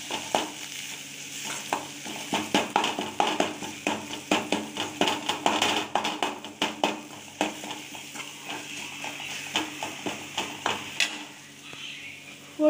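Tomato and spice egg gravy with turmeric, chilli and coriander powders being stirred in a frying pan, a steady run of close scraping strokes over a soft sizzle, with no talking.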